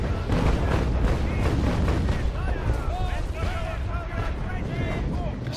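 Booming cannon fire from warships in Naval Action, including stern guns, dense rumbling volleys that blend into continuous battle noise while someone talks over them.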